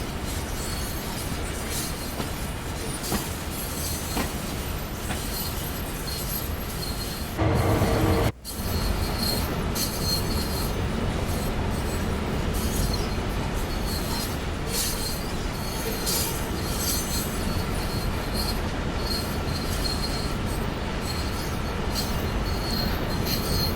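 Railroad cars roll steadily with a continuous rumble, high squealing wheels and occasional clanks, broken by a brief loud burst near the middle, as cars are pushed up a siding on the 1970s Clinchfield railroad in Train Sim World 2.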